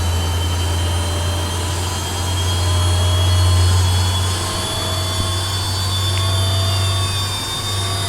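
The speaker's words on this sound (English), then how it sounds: "Starting the engines before we depart." BAE Hawk jet engines spool up in Microsoft Flight Simulator 2024, giving a steady loud turbine whine with a deep constant hum underneath that swells slightly and continues throughout.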